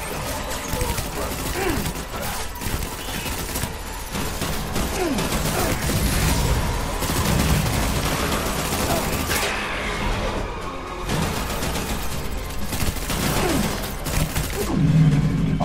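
Gunfire in Death Stranding rattles through a busy game soundscape, with repeated bursts and impacts layered over a constant rumble of background effects over a long stretch.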